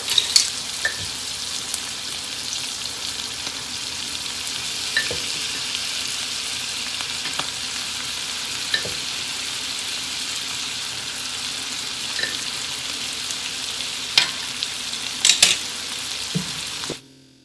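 Flour is whisked into frying sausage in a pan for sausage gravy, giving a continuous hissing sizzle with scattered light clicks and scrapes of the whisk throughout and a few louder knocks near the end.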